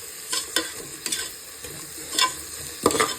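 Onions sauté in a pan with salt, a soft sizzle broken by several scraping stirs of a spoon, each a short rasping burst, at close range.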